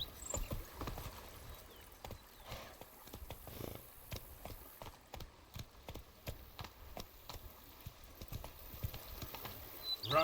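A horse gallops in The Witcher 3, a steady rhythmic clip-clop of hooves that continues at a fairly even pace, soft and moderately close, with no talking.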